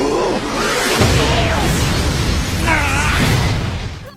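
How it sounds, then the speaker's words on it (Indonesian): A shrimp-shaped cannon fires in a One Piece anime scene, with a loud boom and crash followed by whooshing and a second burst, all dense and close with no speech. "Patty pun mengeluarkan meriam udang yang langsung ditembakkan ke arah Don Creek."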